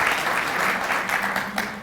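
A round of applause from an audience at a perennials gardening workshop, brisk and fairly close clapping that fills the short moment.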